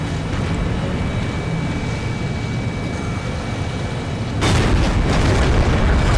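A tank's main gun fires in a tank video game, a heavy booming blast near the end over a constant low engine rumble, with no voices.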